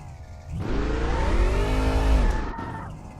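Race car in a racing video game, driven with a WRC wheel and H shifter: a loud engine revs up steadily and holds a high, strained note for about two seconds, then cuts off abruptly, close and alone without talk.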